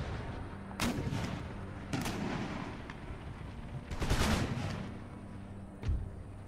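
Camel gunner units fire volleys in the Empire Total War battle game, a few separate musket bursts with a heavier crackling salvo near the end, loud and close over a steady battlefield rumble.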